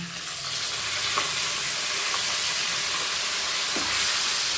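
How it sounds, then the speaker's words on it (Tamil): Dried red chillies and curry leaves fry in hot oil for lunch-box amla rice, giving a steady loud sizzle and hiss with a few faint stirring clicks and no talk. "இப்போ வந்து மிளகாயும் கறிவேப்பிலையும் போட்டுறாங்க இது கொஞ்சம் வணக்குங்க"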